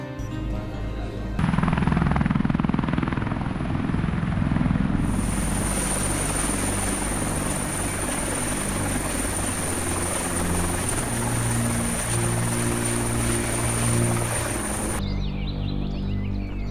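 A military helicopter flies steadily overhead in a Chinese drama, its rotor drone loud and continuous for most of the stretch with a high whine laid over it, with no talking.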